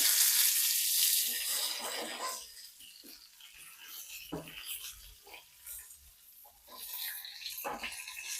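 Spices hiss and sizzle loudly in hot coconut oil at first, then the sizzle fades to a quieter crackle with a few scattered clinks.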